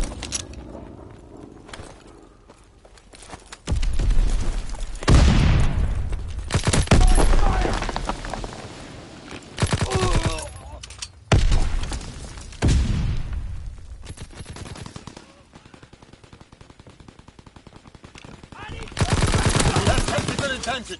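Call of Duty gunfire erupts in several loud bursts of rapid shots separated by quieter gaps, with voices calling out between and over the volleys.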